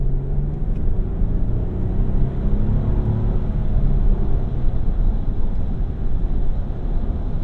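From inside a 2024 Lexus GX 550 SUV, a steady low engine and road rumble holds for several seconds while the vehicle accelerates, with no voices.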